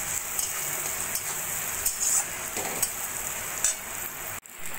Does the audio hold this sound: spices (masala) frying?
yes